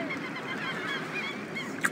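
Baby dodo birds in Zoo Tycoon 2 giving soft, continuous honking calls, goose-like and steady, with a brief sharper note near the end over a constant ambient bed.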